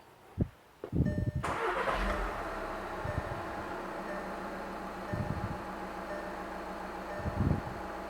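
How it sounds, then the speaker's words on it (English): A 2009-2014 VW Jetta TDI diesel engine cranks briefly, catches and starts, then settles into a steady idle with a few small rises in revs, close and clear with no talking. "we're going to have to start the car and let it run"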